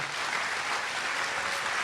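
A church congregation at a sermon claps together in a steady, moderate burst of applause that lasts a couple of seconds with no voices over it.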